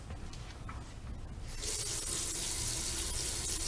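Water bursts through a pipe system once a valve opens, a quiet trickle suddenly turning into a loud, steady rushing hiss that continues unbroken to the end, with no talking.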